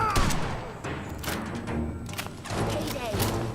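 Gunfire in Fallout 4, several loud close shots and thuds in quick succession amid combat noise, with a voice speaking over part of it.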